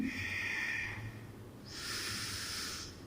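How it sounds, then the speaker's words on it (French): Two slow, audible Ujjayi yoga breaths during a vinyasa class: a long hissing exhale followed by a brighter, airy inhale, close and steady with nothing else heard. "Revenez sur Ujjayi. 3 profondes respirations ici."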